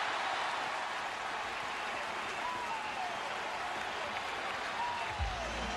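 Yankee fans applaud at Shea Stadium during Game 4 of the 2000 World Series, a steady wash of crowd clapping and cheering that fills the whole stretch at an even level, with faint whistles rising above it.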